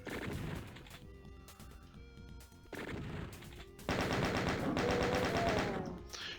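Rapid chaingun bursts and game combat effects in DOOM as chaingunners fire at a pinky demon, dense overlapping gunfire with crashes and monster cries, loud throughout.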